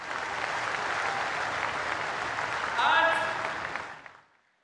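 A large rally crowd applauds to welcome the Prime Minister in Jhabua, dense steady clapping that swells briefly before fading out, with a voice speaking over it near the start.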